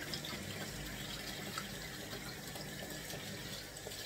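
A kitchen tap runs steadily, rinsing vinegar out of food before seasoning, producing a continuous close splashing rush of water that stays even throughout.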